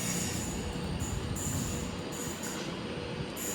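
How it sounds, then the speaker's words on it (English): A train rumbles steadily at a platform in Stockport station with a faint high metallic whine coming and going, no voices. "the train now departing from platform 3"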